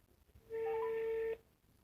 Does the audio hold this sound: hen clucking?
no